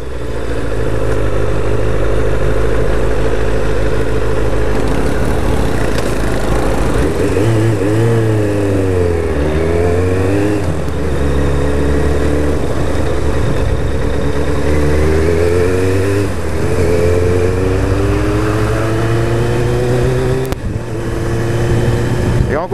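Kawasaki Ninja ZX7R motorcycle riding through traffic, its engine loud and close, rising and falling through repeated rev sweeps and gear changes with steady wind rush.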